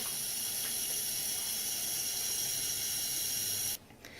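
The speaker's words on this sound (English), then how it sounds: "I'm just going to rinse all of them off" Steady hiss of running tap water rinsing makeup brushes at a sink, continuous and close, cutting off abruptly near the end.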